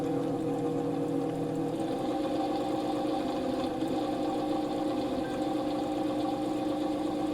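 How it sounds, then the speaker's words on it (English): A solder fume extractor fan with dry bearings runs with a loud, continuous vibrating hum and rattle, steady and close throughout. "You heard that very, very loud vibrating noise before."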